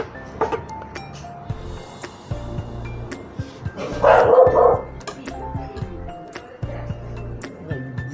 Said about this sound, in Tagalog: Lilig-lilig yung aking aso, may nakikita dyan sa labas eh.